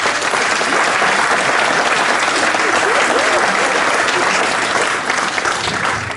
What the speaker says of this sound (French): Et lui aussi, il mérite vos applaudissements.